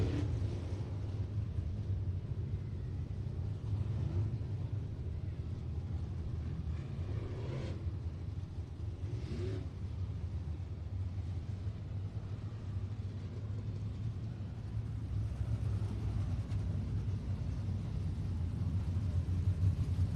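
Late model race cars run on a dirt track during a main event, giving a steady, distant engine rumble that continues unbroken with only faint swells as cars pass.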